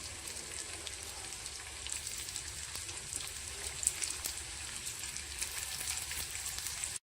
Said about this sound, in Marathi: खोबरेही भाजताना आपण थोडंसं तेल टाकून घेऊया, म्हणजे खोबरं पण पटकन भाजले जाईल।